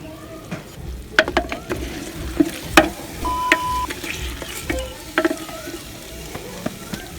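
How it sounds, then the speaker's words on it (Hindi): Mutton pieces sizzling in a pan, a continuous close fry punctuated by sharp spatters and clinks of a spoon or spatula against the pan, with no voices. "गोश्त जो है उसको 4 मिनट के लिए भूनेंगे।"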